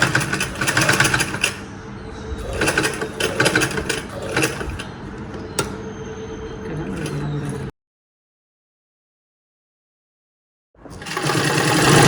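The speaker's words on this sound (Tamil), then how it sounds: "இது கரெக்டாக இருக்கிறதுனால இந்த ஸ்டார்டிங்கிலேருந்தே தைக்காங்க" A sewing machine stitches a frill onto an Anarkali made from a saree, running in a steady mechanical whir with faster bursts, then stopping for a few seconds of silence before starting again.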